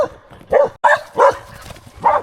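Dogs barking in a farmyard by an electric fence where pigs are being moved to winter quarters, several separate barks spaced apart, moderately close with short pauses between them.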